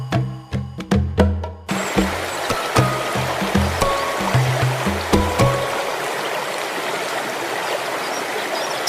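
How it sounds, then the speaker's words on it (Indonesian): A mountain stream near Curug Cibeureum waterfall on Gunung Gede gurgles and rushes steadily, a dense watery hiss that continues alone after a few seconds of hollow knocking thuds at the start. "ada suara gemericik air semakin jelas terdengar"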